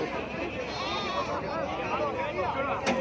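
Goats bleat repeatedly at a busy weekly livestock market in Gudur, their wavering cries overlapping amid a constant hubbub of crowd chatter.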